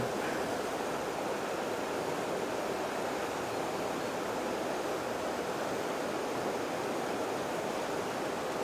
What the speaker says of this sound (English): Where the water comes down, rushes over it.